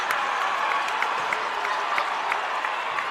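A crowd cheers and applauds steadily after a slam dunk at a boys' high school bi-district playoff basketball game, a dense, continuous roar of voices and clapping filling the gym with sharp claps poking through.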